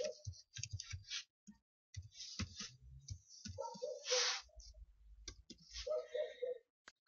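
Quiet, close keyboard taps while a password is typed into an email login screen on a computer, followed by crisp mouse clicks to sign in, arriving in short irregular clusters.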